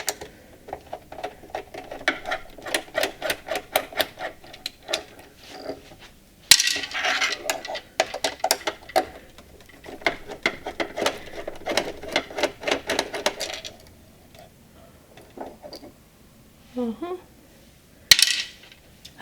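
Screws are undone on a Singer Heavy Duty 4423 sewing machine with metal tools, giving close, intermittent clinks, scrapes and clicks in irregular bursts. A sharp tap stands out now and then, and short quiet pauses separate the bursts.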